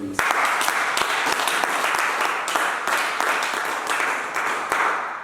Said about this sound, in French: On acclame Jésus, on acclame Jésus.